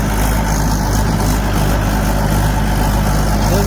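Mahindra 575 tractor engine running steadily in a wet, muddy field, a loud continuous low diesel drone with a constant rumble throughout and no voices.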